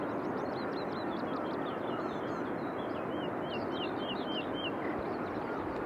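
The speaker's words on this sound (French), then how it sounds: "Alors il y a les oiseaux etc." Birds calling at dawn on a golf course near the sea, a scatter of short chirping calls over a steady roar of surf and background noise.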